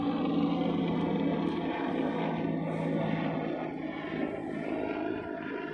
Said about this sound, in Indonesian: nah ada helikopter lewat